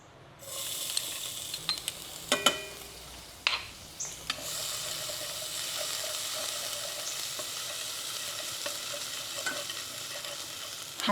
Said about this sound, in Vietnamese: Hành tỏi thì mình sẽ phi thơm ha.